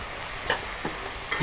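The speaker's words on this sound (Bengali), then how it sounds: "এখন আমি এখানে মাছগুলো ঢেলে দিয়ে দেবো" Pieces of pre-fried fish tipped into a hot pan of oil for a poppy-seed chital curry, giving a brief scatter of sizzling bursts over a steady frying hiss.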